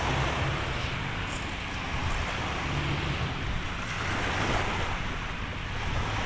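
Waves washing onto the Manila Bay shore in a steady, close surf roar, with wind buffeting the microphone throughout and no voices.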